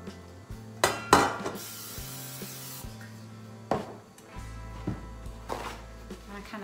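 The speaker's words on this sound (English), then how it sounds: "Now we're gonna spray with the olive oil cooking spray the inside of our" Olive oil cooking spray hissing into metal steam pans in a home kitchen, a few short bursts between clinks of the pans and a low hum, with a voice talking in between.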